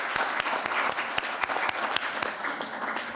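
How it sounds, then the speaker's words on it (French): Applause from an audience at a public forum, steady, many-handed clapping, moderately distant and fairly quiet, with no voices over it. "s'il faut que je vous traduise les applaudissements"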